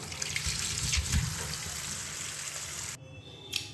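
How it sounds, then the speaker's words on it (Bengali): Mangoes are rinsed under a running tap, a steady splashing stream of water that cuts off abruptly near the end, leaving a brief quiet with a small clatter. "আমি আমগুলোকে ভালো করে ধুয়ে নিচ্ছি"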